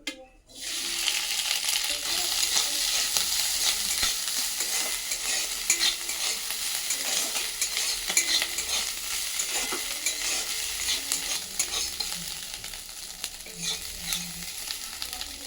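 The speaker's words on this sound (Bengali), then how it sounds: "তেলটা গরম হয়ে গেছে এবার গেঁড়িটাকে ভেজে নেবো" Freshwater snails (gendi) sizzle in hot oil in a kadai, a loud, steady crackling hiss that starts suddenly and continues for the whole stretch, with faint stirring underneath.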